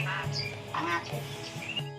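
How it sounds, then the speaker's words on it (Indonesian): Asian pied starling (jalak suren) kept at a house for sale, giving harsh squawks and chattering calls over two seconds, close and fairly loud, with faint background noise. "Iki ana jalak suren"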